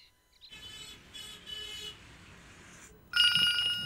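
A telephone rings loudly and abruptly in an indoor scene from a dubbed South Indian action film, its bright electronic trill cutting in near the end after quieter background sound.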